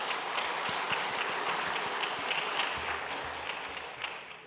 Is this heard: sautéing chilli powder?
no